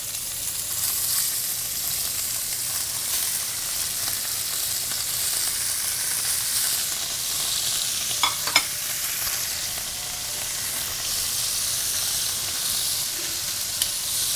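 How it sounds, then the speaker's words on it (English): Short ribs sear in a hot pan with a steady, loud sizzle and hiss throughout, broken only by a few brief clinks near the middle; no voices. "before we get cooking, we have to get a nice, beautiful sear on these short ribs"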